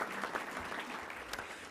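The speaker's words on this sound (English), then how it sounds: "it's worth a round of applause" Audience applause at a Little Rock Touchdown Club luncheon meeting, a steady wash of many hands clapping at moderate distance, fairly quiet and short, with no talking over it.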